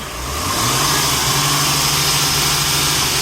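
A 1999 Acura TL engine revs up from idle, a steady loud mid-pitched drone that climbs and holds at higher speed, close by with no talking.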